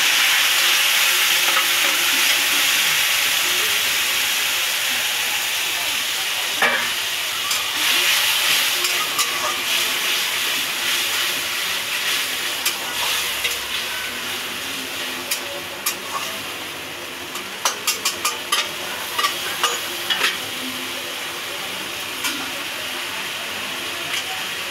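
Onions and tomatoes frying in a pan, a continuous loud sizzle and hiss with occasional stirring scrapes and taps, steady throughout.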